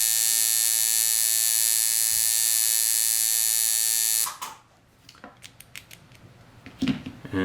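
A tattoo machine hums in a steady, high electric buzz, loud and close, for about four seconds, then cuts off, leaving faint clicks and handling noises.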